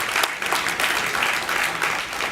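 Steady applause from a lecture audience, dense overlapping clapping that keeps an even level throughout.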